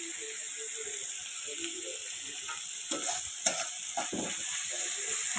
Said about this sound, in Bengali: এখন আমি মুরগির মাংস রান্না করবো।